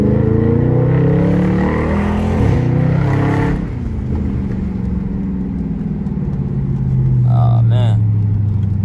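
Loud engine of a Chrysler SRT car fitted with Hellcat wheels, running close with a heavy, steady roar that shifts pitch midway, then settles into a deep, even drone with a brief higher whine near the end.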